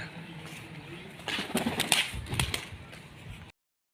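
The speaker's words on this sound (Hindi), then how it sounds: "कबूतर है" A pigeon coos a few times nearby, soft throaty calls over light background noise, then the sound cuts off.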